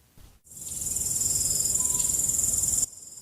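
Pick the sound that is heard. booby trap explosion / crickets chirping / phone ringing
crickets chirping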